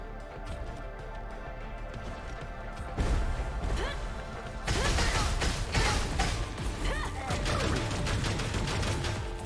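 Gunfire in the video game Anno Mutationem, a clatter of shots and crashing impacts that grows louder partway through, dense and close with irregular bursts.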